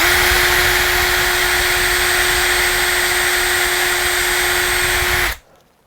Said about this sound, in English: Now it's quite simple, you just basically drill.